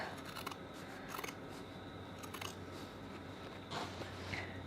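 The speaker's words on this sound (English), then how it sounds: "I'm just going to trim these seams back a bit" Scissors snip through the stitched seams of fabric pocket pieces, trimming and grading the bulk: a quiet, close series of crisp cuts in small clusters over a low steady room hum, with no talking.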